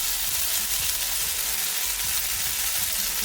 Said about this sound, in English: we can slowly add our pad thai sauce